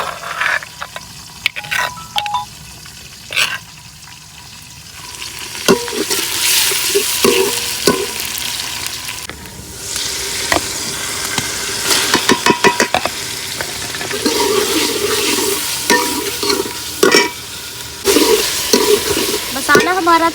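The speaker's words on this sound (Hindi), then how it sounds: "अब इसमें डालेंगे हम सब्ज़ मिर्च और अदरक कुटा हुआ।" Masala frying in a village kitchen with green chili and crushed ginger added, a steady close sizzle with frequent scraping stirs and clinks of the spoon against the pan throughout.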